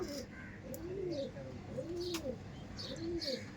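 Punjabi Malbayi pigeons coo in low, rolling repeated calls at a steady rhythm, close by over faint background noise and a few high chirps.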